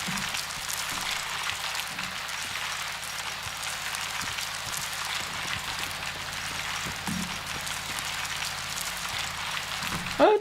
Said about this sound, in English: Oh, it's hail. Of course it's hail. It sounds like hail.